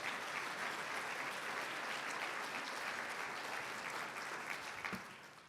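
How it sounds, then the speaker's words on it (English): Sustained applause from an audience at an honoree event, steady clapping throughout, tapering slightly near the end, with no voices on top. "And a round of applause for all our proud supporters there."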